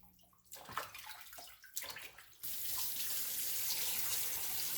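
Running tap water gushing steadily into a sink while chicken feet are washed, with a few handling splashes and sloshes before the flow settles into a loud, continuous stream.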